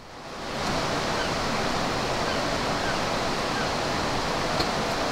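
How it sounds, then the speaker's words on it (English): Salt water boiling hard in salt making at Brora, a dense, steady seething hiss that rises within the first second and holds evenly throughout. "it's just bubbling away, and it gives that real seething sound coming off"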